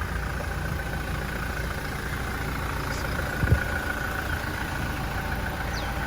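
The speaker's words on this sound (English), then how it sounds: "I love the sound of this engine." A Toyota 2.8-litre four-cylinder engine idling with the bonnet open, a steady low rumble held close and even, with one brief louder knock partway through.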